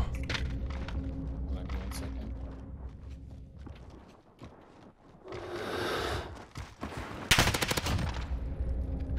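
Gunfire in a Rebirth match of a video game, rapid close bursts of shots with footsteps and movement between them, a sharp loud volley near the end, and people talking over parts of it.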